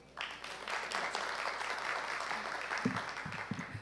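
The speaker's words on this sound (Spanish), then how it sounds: "pido un fuerte aplauso" An audience at a conference on project-based learning applauds to welcome a speaker, sustained clapping that rises quickly and holds steady, with a few louder close claps and thumps toward the end.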